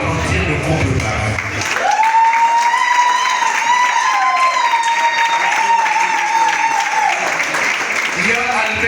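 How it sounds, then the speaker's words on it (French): Wedding guests applaud the couple with sustained, dense clapping and cheering that runs the whole stretch, while a long whistle or held vocal tone rises over the crowd in the middle. "Est-ce qu'on peut applaudir le couple Marin?"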